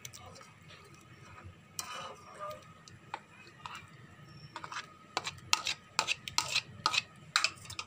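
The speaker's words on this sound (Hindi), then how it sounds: "जब आप पकाएंगे तो इसको हिलाते रहना है, आपको बिल्कुल भी चम्मच रोकना नहीं है" A spoon stirs milk for mango kheer in a pot, making light repeated scraping and tapping clicks that come in irregular bursts and grow busier toward the end, close and moderately loud.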